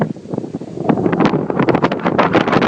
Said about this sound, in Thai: ลมลมแรงมากเลยครับตอนนี้